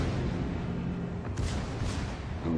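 German battleship Gneisenau launching torpedoes in World of Warships, a dull low rumbling whoosh set against a constant engine and sea drone, with a couple of soft splashing bursts in the middle.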